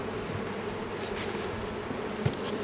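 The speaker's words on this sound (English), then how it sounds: "Shake just a few bees into there because I'm actually going to use these in the same apiary." Honeybees buzzing steadily as they are shaken off brood frames into a box in an apiary, a dense continuous hum close by with a single brief bump near the end.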